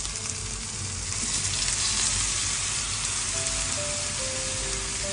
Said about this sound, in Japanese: このタレをねしっかり絡めるよ